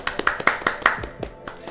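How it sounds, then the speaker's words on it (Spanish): A short burst of hand clapping from a small group, a handful of sharp claps in quick succession, fairly close, with no voices over it. "Un aplauso."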